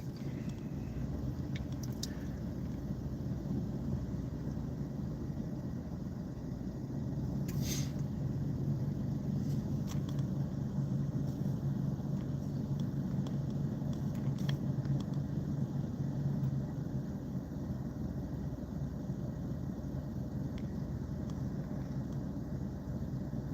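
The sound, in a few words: work ute driving, engine and road noise from inside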